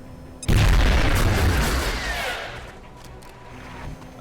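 A frag grenade detonates in XCOM Long War with one sudden loud boom and a heavy, rumbling blast that slowly decays over several seconds, no talking.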